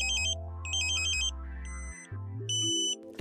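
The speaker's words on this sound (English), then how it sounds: "You hear the ambulance tone again." Satellite signal meter on a Ka-Sat dish alignment sounding a two-tone wailing alarm like an ambulance siren, electronic beeps stepping up and down in pitch, loud and close with no talk.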